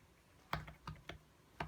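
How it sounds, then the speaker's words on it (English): Typing on the keyboard cover of an iPad Pro 9.7, four sharp, loud clicks spaced unevenly over a quiet background. "And there's a click sound, which, you know, I mean, it's tactile."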